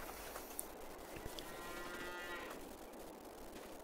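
Cattle in a farming video game moo repeatedly in a low, drawn-out call over a steady background hum, moderately distant and fairly quiet.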